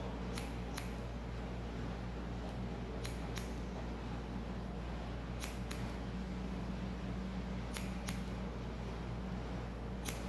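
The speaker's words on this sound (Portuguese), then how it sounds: "Aí eu vou trazer essa mecha cortando até o topo" Scissors snipping a lock of hair during a low fade haircut, with sharp repeated clicks in closely spaced pairs every few seconds over steady low room hum and no talk.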